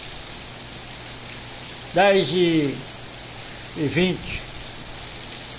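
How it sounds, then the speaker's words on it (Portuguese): Heavy rain hisses in a steady, dense wash in northeastern Brazil, and a voice speaks briefly twice over it. "Com chuva, muita chuva aqui"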